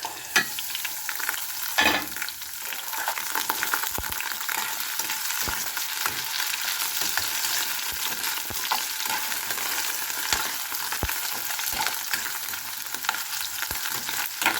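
Mushrooms sizzle and fry steadily in a hot pan for a pork and mushroom dish, with occasional clinks of stirring utensils and no talk.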